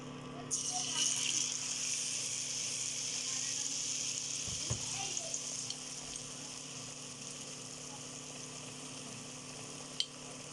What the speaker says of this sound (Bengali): আর একটা দিলাম, অল্পই দেবো, গায়ে গায়ে দুইটা ভেজে নিই তারপরে